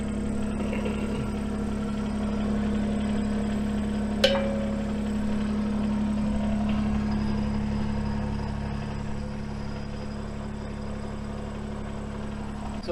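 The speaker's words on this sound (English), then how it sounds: "I'm just gonna have to start the tractor and pull it back a bit" A Kubota tractor engine idles with a steady low drone and a constant tone, running evenly nearby; a single brief click cuts through partway.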